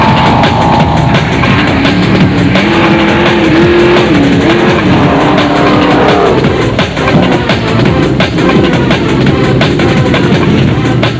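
Off-road racing vehicles in the 2000 Baberspan 500 race roar loudly and continuously, their engine notes rising and falling as they drive hard past nearby.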